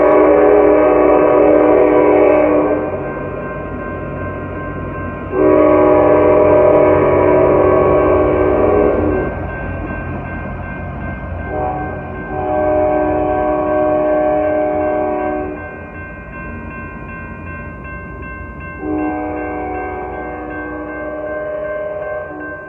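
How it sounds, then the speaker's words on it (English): An Amtrak San Joaquin passenger train heading northbound into a rail yard sounds its horn in long, loud, close blasts, several in a row with short gaps, over the steady rumble of the passing train. "we captured Amtrak San Joaquin heading northbound into the yards on track 1"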